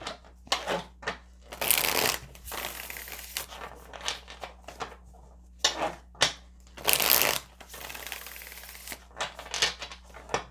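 Tarot cards are shuffled in a series of crisp, riffling bursts of varying length, close and clear, separated by brief pauses, with no talking.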